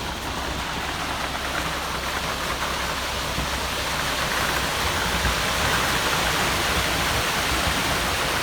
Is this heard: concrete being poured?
yes